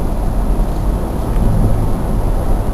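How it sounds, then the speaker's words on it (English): Rain heard from inside a moving car on a road approaching a lake, a steady loud low rumble of tires and wash mixed with a hiss of water spray, continuous throughout with no voices. "And of course it's raining."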